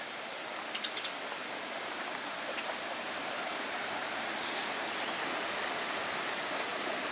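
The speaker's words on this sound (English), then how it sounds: "Now we are at the top of the fountain, waterfall area." Outdoor fountain waterfall at a downtown riverwalk in San Angelo, Texas, cascading in several drops toward a lake, a dense, continuous roar of falling water heard up close, with a few faint chirps near the start.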